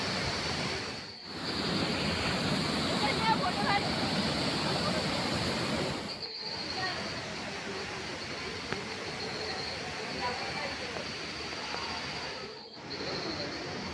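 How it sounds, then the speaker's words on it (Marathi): A waterfall at a Hindu temple, Dhutpapeshwar, roars as a steady broadband rush of falling water, loud and continuous throughout, with only brief dips. "आता आम्ही वरती धबधब्याची इथे आलोय."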